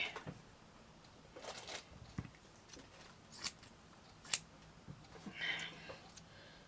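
Scissors snip through material for a handmade vintage felt flower hair clip, several crisp cuts at uneven intervals, close and fairly quiet, with rustling handling sounds between them.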